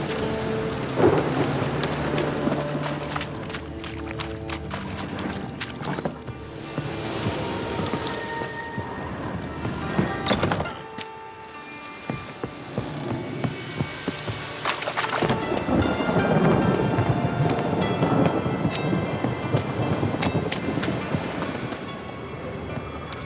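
Heavy rain pours and thunder rumbles in The Witcher 3: Wild Hunt, a dense storm bed with rolling low booms and crackles, a brief lull midway before the downpour swells again.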